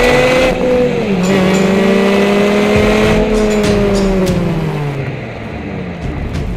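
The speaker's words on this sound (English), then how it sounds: "So now let's rev and hear that exhaust." A 2006 Honda Civic Si held at high revs, its exhaust droning loud and close with a steady tone that dips slightly and rises again as the throttle is worked, no talk over it.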